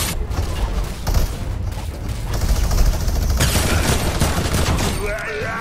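Sustained minigun fire from two shooters in a Fortnite match forms a dense, continuous mechanical rattle, heavy and loud, with clanking game effects.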